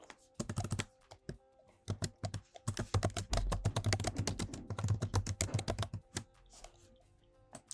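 Typing on a computer keyboard, rapid close keystrokes in irregular bursts that thicken into a dense flurry mid-way, then thin out to scattered taps, with no talk.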